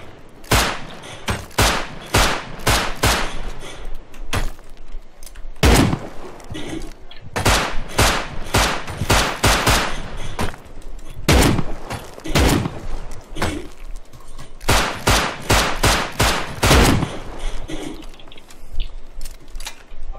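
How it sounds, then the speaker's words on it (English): Gunfire in Rust as players shoot at a ceiling during a raid: loud, close shots fired in rapid bursts and single cracks with short pauses between, repeated over about twenty seconds with no talk. "I see the ceiling you guys are shooting at."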